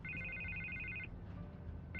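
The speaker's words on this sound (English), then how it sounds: "I can't get the phone to stop ringing." A telephone rings with a faint electronic trilling tone: one burst of about a second, a short gap, then the next ring beginning, over quiet background.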